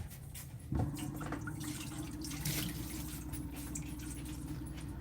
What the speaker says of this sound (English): Let's give Duke some water.